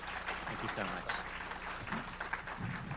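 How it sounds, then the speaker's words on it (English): An audience at a talk applauds at a moderate level. The clapping goes on steadily, with a voice speaking over it. "Let's give him a round of applause for that."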